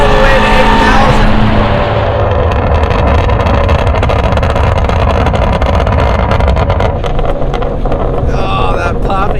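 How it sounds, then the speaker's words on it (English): A Hennessey Mustang GT350R with an 850 hp HPE package on a test track: a loud, steady engine drone with wind noise, broken by rapid, sharp exhaust pops and crackles near the end. "Oh, that popping is ridiculous."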